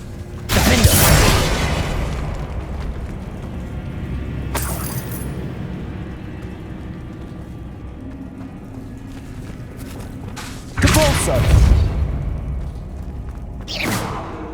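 Confringo blasting-spell explosions in the Hogwarts Legacy video game: a loud blast at the start, a sharper burst midway, then two more heavy blasts near the end over a low ambient bed.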